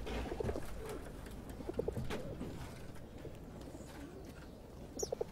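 Pigeons cooing softly nearby in a quiet setting, a few low throaty coos and rustles scattered across the stretch, with a brief brighter chirp near the end.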